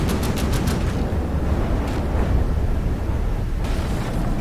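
Missile blast in the naval combat game From The Depths, a continuous loud rumbling roar of explosions with sharp popping bursts at the start, no voices.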